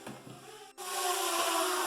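A low hum gives way to a loud, steady high-pitched whirring buzz that spins up sharply and holds, a small drone flying close by indoors in an abandoned house.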